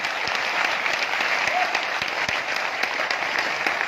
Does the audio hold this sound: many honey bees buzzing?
no